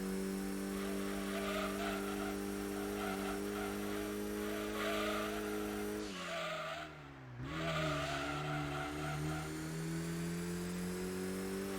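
Race car tyres squealing at Deep Forest Raceway in the Gran Turismo video game, over a steady engine drone; the tone shifts and dips briefly in the middle before the engine and squeal build again.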